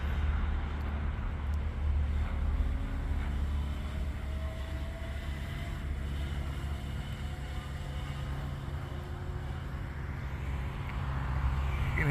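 Razor MX500 electric dirt bike upgraded to 48V accelerating in a parking lot, a faint motor whine climbing steadily in pitch over a low rumble and wind noise for several seconds, with no voices.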